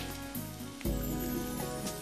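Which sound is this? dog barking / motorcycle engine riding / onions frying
onions frying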